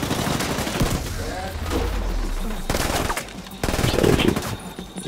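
Bursts of automatic gunfire in the shooter game The Division 2 rattle in rapid strings with short breaks, fairly quiet and mixed with game effects.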